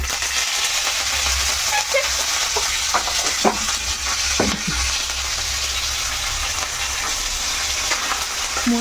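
Mustard seeds, cumin, dry red chilies and curry leaves frying in hot oil for a coriander-ginger chutney tempering, a steady loud sizzle with scattered crackles and a few stirring scrapes throughout.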